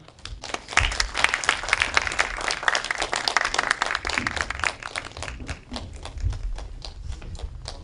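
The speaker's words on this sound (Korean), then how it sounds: "그러면 박수로 환영 부탁드립니다." An audience at a film talk event claps to welcome a guest, a moderately loud patter of many hands with distinct individual claps that rises and eases unevenly, without speech over it.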